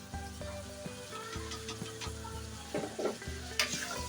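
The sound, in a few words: chicken korma frying with red chili and turmeric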